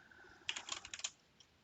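Quick burst of keystrokes on a computer keyboard, about a dozen crisp clicks in a short run, close and clear with no talk, while software is being installed on a Windows machine.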